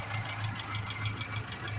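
Car engine running steadily at idle, a continuous low rhythmic throb with a fine mechanical ticking, close and unbroken throughout.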